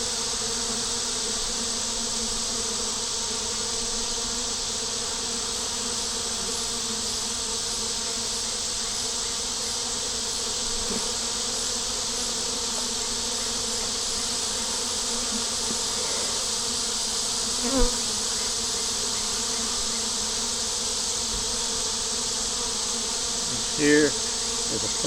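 Honey bees buzz around an open hive on a hot day, a steady dense hum of many insects close by, with a couple of faint brief knocks near the end.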